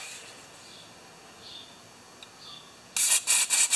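A few short, bright squirts of fuel from a spray bottle aimed at a Remington mower carburetor: quiet hiss at first, then three or four sharp, close bursts in quick succession near the end.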